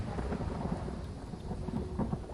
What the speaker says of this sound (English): I do want the sounds of rain and such.